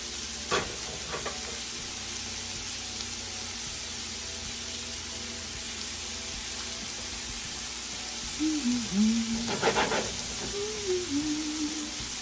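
Philly steak sandwich filling cooks on a pan with a steady hissing sizzle, broken by a few scraping tosses and a brief voice murmur near the end.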